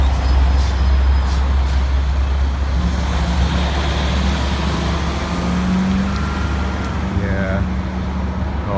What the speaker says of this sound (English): that's a semi.